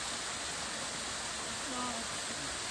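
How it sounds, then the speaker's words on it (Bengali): A waterfall in Buxa Tiger Reserve gives off a steady, dense rushing hiss, continuous and fairly distant throughout, with no other distinct sounds rising above it. "এই দেখো কি সুন্দর ঝর্ণাটা"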